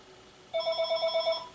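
A telephone bell starts ringing abruptly after a brief quiet moment, a steady, close and fairly loud trill of rapid pulsing rings with no talk over it.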